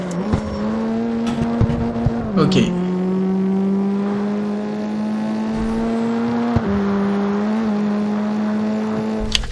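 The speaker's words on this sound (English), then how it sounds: "Do not hesitate to brutally downshift in order to brake faster." A car engine in the racing game CarX Street holds a steady droning pitch, dropping sharply in two brief downshift blips as it brakes into corners, with a short spoken word over it.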